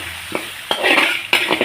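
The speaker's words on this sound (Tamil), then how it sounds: "ஓகே, நம்ம கடுகு போட்டுருவோம். இதே சேர்த்து இஞ்சி பூண்டு போட்டுருவோம்" Mustard seeds, ginger and garlic sizzle in hot oil in a pan, with a steady frying hiss broken by a few sharp crackles and stirring clinks, close and moderately loud with no talk.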